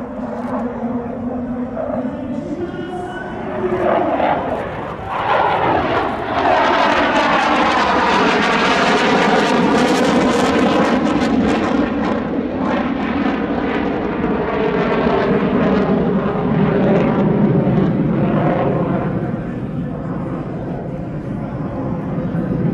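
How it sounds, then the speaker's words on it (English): A Romanian Air Force MiG-21 Lancer jet fighter flies past with a loud, rising engine roar that swells to a sweeping peak midway and stays strong as it passes, no talking. "This MiG-21 Lancer belongs to the Romania Air Force and is flown by a very skilled"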